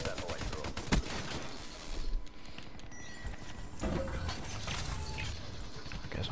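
Man o' War rifle fire in the video game Black Ops 3, a stream of shots and clattering game noise running throughout, with a louder crack near the start, under a constant busy mix.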